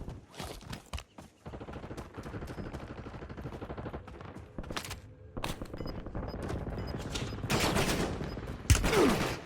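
Gunfire in the Call of Duty Warzone video game, a dense run of rapid automatic shots and fusillades that keeps going for several seconds, loud and close, with sharp bursts toward the end.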